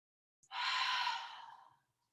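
A single deep breath during a yoga pose, a short catch followed by one long, airy exhale lasting over a second, close and quiet with no talking around it.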